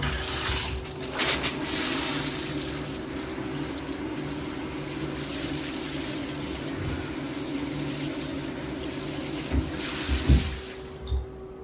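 Running tap water rinsing a potted houseplant: a steady, even hiss of flowing water that continues for the whole stretch, close by and fairly loud, with a few faint bumps and shifts near the start and end.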